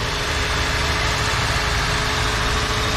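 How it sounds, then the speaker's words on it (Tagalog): Replacement surplus car engine idling smoothly and evenly after a rough first start, a steady, close, loud hum and rumble with no breaks or misfires, no talking. "Yan, pumino na yung andar niya ngayon."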